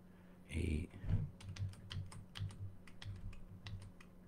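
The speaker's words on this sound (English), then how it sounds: "let's test drive the new keyboard" Typing on a new computer keyboard, a quiet run of quick, irregular key clicks following a couple of louder thumps, close and fairly faint.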